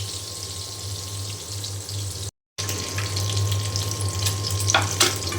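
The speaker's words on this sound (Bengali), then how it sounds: "পটলও ভেজে নেব।" Sliced pointed gourd (potol) fries in oil with a steady, even sizzle that cuts out for a brief moment midway, then resumes, close and fairly loud.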